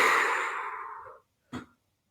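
A long, breathy exhale through the mouth slowly fades out during a relaxation breathing exercise, followed after a pause by one short, sharp puff of breath.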